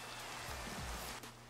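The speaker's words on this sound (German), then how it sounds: "Dieser elendige Regen." Rain falls steadily as a dense, even hiss throughout in a steampunk video game, with a few low thuds underneath.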